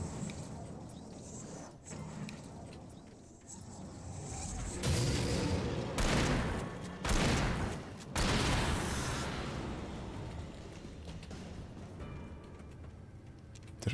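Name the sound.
pistol gunfire in the video game Alan Wake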